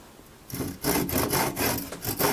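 A handsaw cuts through wood in a home workshop with several loud, rhythmic back-and-forth rasping strokes, close up, after a brief quiet start.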